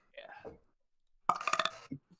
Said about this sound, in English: The first thing on my recording is a belch.